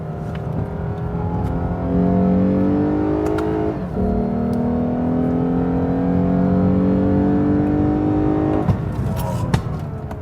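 A 2015 Lexus RC350 F Sport engine revs hard through turns and climbs in pitch, dips briefly as it shifts, then pulls again, loud and close, with no talking.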